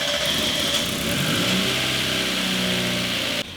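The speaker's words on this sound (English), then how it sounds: "While the car started up here" A Mazda Miata's engine runs through its start-up, a steady loud mid-pitched hum with a slight rising rev in the middle, close by and alone before cutting off abruptly at the end.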